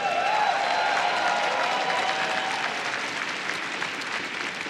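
Large audience at a StarCraft II launch celebration cheering and applauding in a sustained, dense wash of clapping and whoops, loud and close, slowly easing off toward the end.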